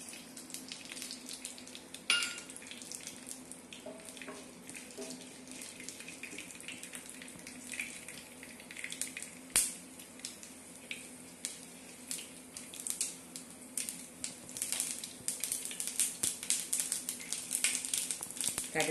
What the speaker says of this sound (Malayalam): ഇനി അതിലേക്ക് നമുക്ക് ഈ ഉലുവയും കടുകും ഇട്ട് കൊടുക്കാം